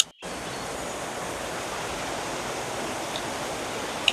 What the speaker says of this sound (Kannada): ಚೂರ್ ಕಾಣಿಸ್ತಾ ಇದೆ ಫಾಲ್ಸ್.